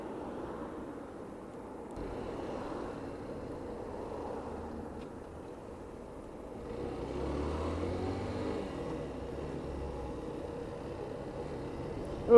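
Yamaha YS125 motorcycle accelerating at full throttle, a steady engine drone that swells louder and rougher about two-thirds through, heard from the rider's position with wind noise.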